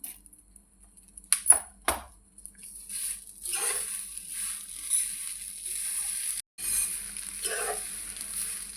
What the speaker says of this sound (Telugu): కరివేపాకు ఉప్పు కలిపి వేపుదామని చెప్పాం కదండి, వేగిపోయింది.